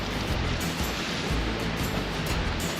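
Cane Creek Falls waterfall roaring nearby, a dense, unbroken rush of falling water at constant loudness with no voices over it.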